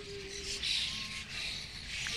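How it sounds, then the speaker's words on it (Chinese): Birds chatter busily while feeding on small cherries in a park in Japan in the early morning, a dense steady chorus of chirps with faint distant tones, no talking. "鸟儿们赶早市，"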